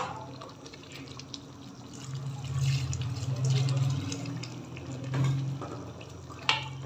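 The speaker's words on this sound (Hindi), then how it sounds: "थोड़ा सा पानी और डाल देते हैं।" Water runs and splashes steadily into a cooking pot of mutton curry, swelling louder in bursts, with a faint clink near the end.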